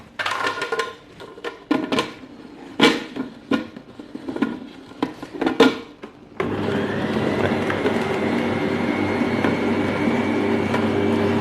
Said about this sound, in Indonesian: Setelah itu saya akan proses pengadukan low speed